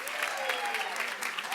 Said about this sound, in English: So applause is a wonderful way to honor people.